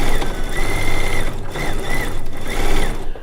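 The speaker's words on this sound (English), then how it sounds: "Our last seam on the Lacey log cabin quilt" A sewing machine stitches the last seam of a Lacey log cabin quilt top, a close, loud, continuous mechanical whir with rhythmic clatter running the whole time without pause.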